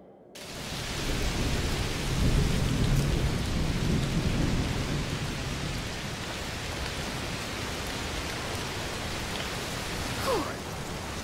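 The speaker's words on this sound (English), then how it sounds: "It's raining a lot." Heavy rain pours steadily in A Plague Tale: Requiem, with a low rolling rumble of thunder swelling early and a distant crack near the end, all without speech.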